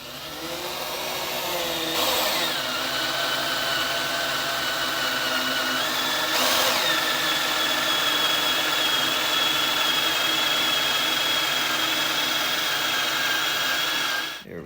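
Drill with a 3/16 drill bit whines steadily during a clutch kit install on a 2014+ Honda CRF125F dirt bike, a loud continuous motor tone with a couple of brief surges near the start.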